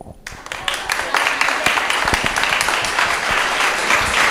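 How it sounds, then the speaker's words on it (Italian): Audience applause breaking out after a speech about commerce in Lugo, starting abruptly and swelling into steady, dense clapping from a sizeable crowd that continues loudly to the end. "Applausi."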